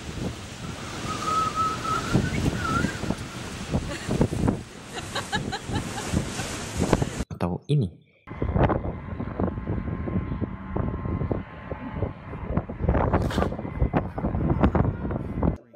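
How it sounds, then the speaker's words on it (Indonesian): Strong wind roars and buffets steadily, with gusty surges and a sharp break midway before the rushing resumes. "angin yang begitu kencang seperti ini"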